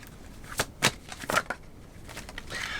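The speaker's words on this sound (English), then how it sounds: "I feel like one more shuffle" Tarot cards shuffled by hand in several quick riffling bursts, close and crisp, with short pauses between them and no talk.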